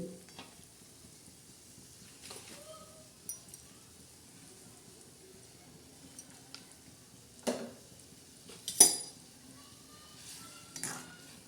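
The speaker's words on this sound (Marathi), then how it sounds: "आता ही उसळ आपली शिजत आहे" Sprouted legume usal simmering in a pan gives a faint, quiet bubbling, punctuated by occasional clinks and scrapes of a spoon against the pan, a few louder than the rest.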